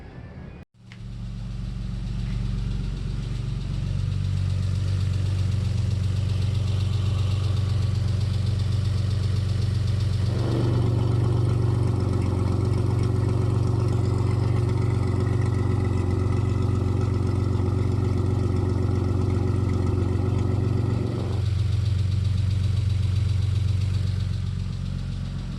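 A car engine idling in a home workshop, a steady low rumble close to the microphone that runs throughout, with a brighter hum joining for several seconds in the middle before fading back to the plain idle.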